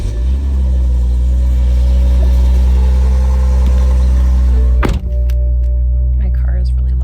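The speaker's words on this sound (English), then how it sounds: "My car is really loud." A loud car engine idles with a heavy, steady low rumble that fills the whole stretch, broken by a single dull thunk partway through.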